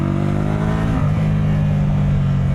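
A Hyosung GV350X motorcycle revving and accelerating hard, a loud close engine roar with rising pitch and a brief stutter as the exhaust pops.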